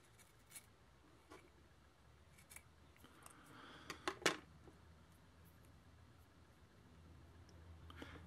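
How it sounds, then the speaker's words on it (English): Quiet snips of dull scissors cutting cotton wick, a few scattered cuts building to a cluster of sharper clicks midway, close and soft against near silence. "These scissors are getting dull"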